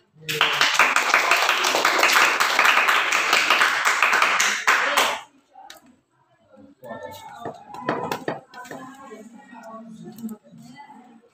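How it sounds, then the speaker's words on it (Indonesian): Students in a classroom clap together in a dense, lively burst lasting about five seconds, then it stops abruptly and a few voices talk quietly afterward. "Tepuk tangan dong sudah mengisi"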